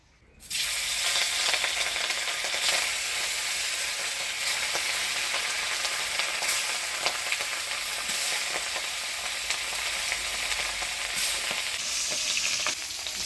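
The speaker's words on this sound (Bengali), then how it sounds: "মাছ ভাজাটা বসে দিয়ে মশলাগুলো করে নিই" Steady, loud sizzling and crackling of small chela fish frying in hot oil, continuous for the whole stretch with no voices.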